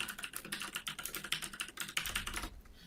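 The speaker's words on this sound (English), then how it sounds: "Somebody actually knows how to type?" Rapid, steady typing on a computer keyboard, many crisp clicks in quick succession, close and fairly quiet, ending with a brief low thump.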